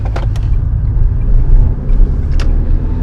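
A Vauxhall Corsa SXi+ driving along a bumpy road, a steady low engine and road rumble filling the cabin with occasional light knocks, no talk.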